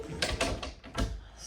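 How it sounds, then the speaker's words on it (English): A squeaky hinged closet door in a house bedroom swings open and shut, giving a few rough creaks and scrapes close by, with no talk. "Sorry for the squeaks."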